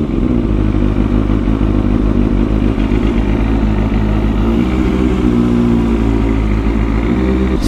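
A Kawasaki ZXR250 motorcycle idles close up on choke while warming, a steady loud engine drone with a slight change in tone partway through and no talk.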